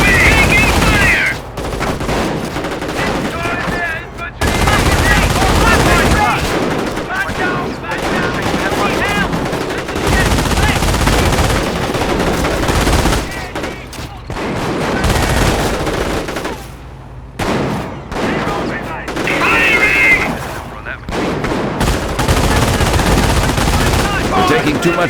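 Heavy battle gunfire in the Company of Heroes video game: dense, continuous machine-gun and rifle fire with deep booms runs throughout, loud and close, briefly easing in places, with occasional voices mixed in.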